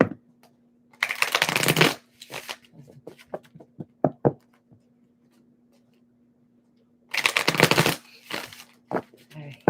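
A deck of tarot cards is shuffled close up in two loud riffling bursts several seconds apart, with soft taps and handling clicks in between.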